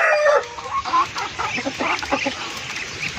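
Backyard chickens and ducks feeding on banana leaves around midday, with a loud burst of clucking early on that settles into steady, close fowl calls and soft clucks running through the whole stretch, no voices present.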